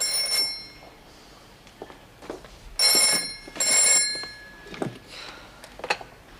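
An old landline telephone at a detention centre rings in two bright, metallic bursts of bell ringing, loud and close, with faint room noise between the rings.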